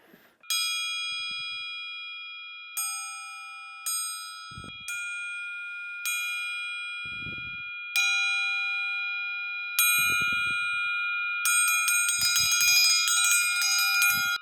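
A bronze Damascus triangle rings out with a series of loud, bright metallic strikes, each leaving a long shimmering sustain, ending in a rapid rattling roll of hits.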